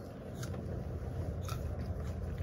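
Someone bites into an apple slice and chews it, with two faint crisp crunches over a low background hum and no speech.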